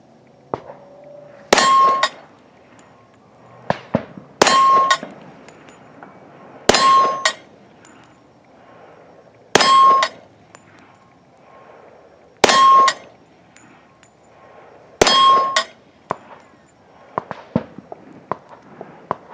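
A Rock Island Armory double-stack 1911 in 10mm fires at steel targets. Six sharp, loud shots come at even intervals about 2.5 seconds apart, each ringing with a metallic clang from the steel, with quiet handling noises in between.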